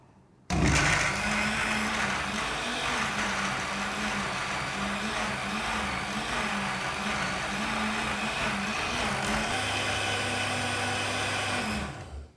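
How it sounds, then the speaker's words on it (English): A blender runs continuously for about twelve seconds blending broast sauce, a loud steady motor whir that shifts pitch slightly near the end before cutting off. "now we're gonna blend it for nearly 5 minutes"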